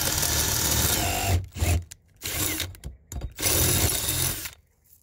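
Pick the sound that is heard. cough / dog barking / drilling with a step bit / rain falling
drilling with a step bit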